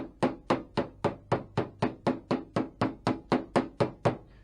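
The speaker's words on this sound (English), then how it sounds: "take a head blow hammer, come around to some of these areas where it's really flanged out, and just start tapping them in" A hammer taps the flanged-out edge of a 1966 Mustang door skin, sounding as about sixteen sharp, evenly spaced metal knocks at a steady quick rhythm, close and loud with no voices.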